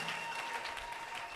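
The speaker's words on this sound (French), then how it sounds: "Est-ce que quelqu'un peut applaudir très fort pour le roi des rois?" A church congregation claps loudly and continuously, a dense, steady wash of applause with no pauses throughout.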